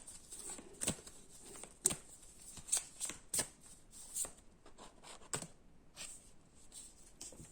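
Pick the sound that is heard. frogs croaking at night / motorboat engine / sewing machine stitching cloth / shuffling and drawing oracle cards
shuffling and drawing oracle cards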